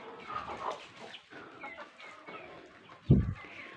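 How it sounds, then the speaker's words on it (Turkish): Soft clucking from chickens nearby, including a brown hen feeding, amid a low outdoor murmur in a garden coop, with a brief louder bump near the end. "kahverengi tavuk şurada yiyor"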